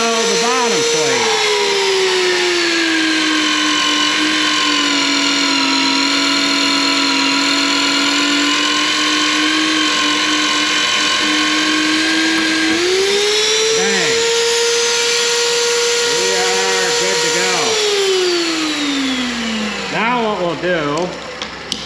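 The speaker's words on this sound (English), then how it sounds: "Now we'll drill the bottom plate." A power drill bores into the bottom plate of a slide rail. Its high whine holds steady, dips and rises as the bit loads and frees, then spins down at the end.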